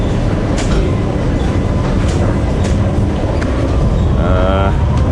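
A metro train rolls along with a constant loud rumble and rattle heard from inside the car. Faint clicks pass through, and a short tonal chime sounds near the end.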